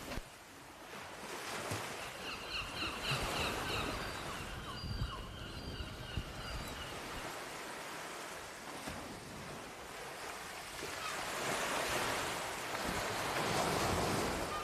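Ocean waves breaking on the North Sea shore near Margate, a steady broad roar of surf with wind buffeting the microphone, swelling louder toward the end, with no voices.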